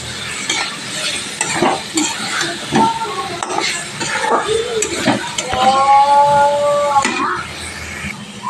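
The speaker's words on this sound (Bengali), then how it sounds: "আলুগুলো দিয়ে দিলাম দিয়ে একটু ভালোভাবে কষিয়ে নেব" Potatoes sauté in a pan for a rohu-style fish kosha, sizzling and crackling with repeated stirring scrapes; a brief whistling tone rises near the end and a faint voice may be present.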